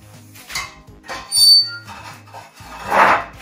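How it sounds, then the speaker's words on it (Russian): A straightedge is pressed and rubbed across plaster guide beacons on a wall, making three or four close scraping, squeaky strokes with short gaps between them. "Давим на левую и на правую сторону. По всем маякам трет."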